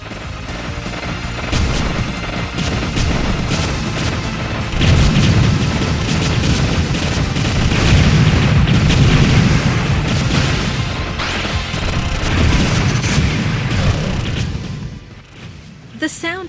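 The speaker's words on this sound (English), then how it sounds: "The sound effects are also pretty good stuff, with satisfying explosions and cool laser effects." Loud, continuous Raiden IV Overkill shooter action with repeated booming explosions, crashes and laser effects layered over a busy electronic soundtrack, sustained for the full stretch before a brief dip.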